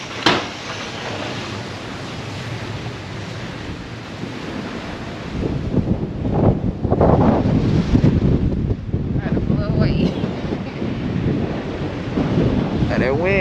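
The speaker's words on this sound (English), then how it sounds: "And that wind hitting today" Strong wind gusts roaring through an open car window on a cold, windy day in Los Cabos, a steady loud rumble that surges and swells throughout.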